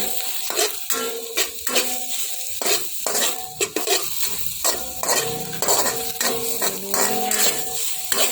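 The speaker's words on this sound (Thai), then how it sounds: "ผัดไปจนสุก จนเข้ากันดีนะคะ" Filling for a Thai stuffed omelette is stir-fried in a pan: a spatula scrapes and knocks against the metal in a quick, uneven rhythm over a steady close sizzle, with no voices.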